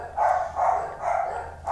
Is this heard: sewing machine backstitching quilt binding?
no